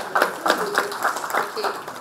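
A handful of people clap in a sparse, uneven rhythm at a talk, with individual claps distinct and fairly close, over a soft background and some murmuring.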